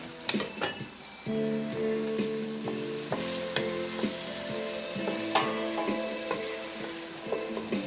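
White onions sautéing in a pan, a steady close sizzle broken by a few sharp utensil clinks and scraping stirs, with no voices.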